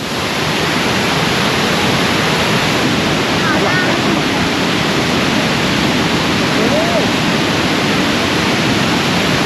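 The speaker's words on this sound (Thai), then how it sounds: "ตอนนี้ผมกำลังเดินออกจากน้ำตกตาลกวางสีแล้วครับ" Kuang Si waterfall near Luang Prabang, Laos, roars as a loud, steady broadband rush of falling water close by, filling the whole clip without a break.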